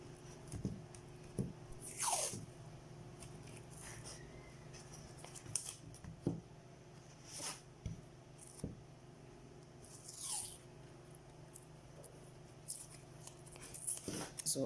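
Adhesive tape wrapped around a high heel shoe, with intermittent short ripping and crinkling bursts spaced a second or two apart over a faint, quiet background.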